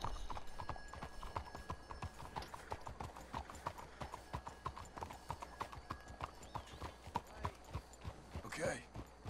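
Horses' hooves clip-clopping at a steady walking pace in Red Dead Redemption 2, close and rhythmic with a faint whinny near the end and a low ambient hum underneath.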